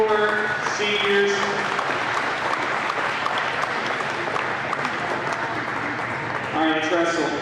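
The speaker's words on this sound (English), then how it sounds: "Once again, can we get a round of applause for the four seniors?" A gym crowd at a high school varsity wrestling meet gives a sustained round of applause for four seniors, steady and full throughout, with voices talking over it at the start and end.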